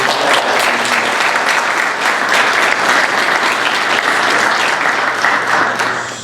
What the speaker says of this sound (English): Let's give Luis a round of applause